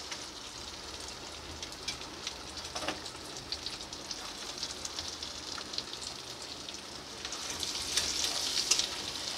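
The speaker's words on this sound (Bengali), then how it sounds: "এরপর দিয়ে দেবো রসুন, কুচানো রসুনটা দিয়ে দিচ্ছি।" Chopped garlic frying in a pan for a butter garlic chicken, a steady crackling sizzle with occasional stirring scrapes, growing a little louder near the end; no one speaks.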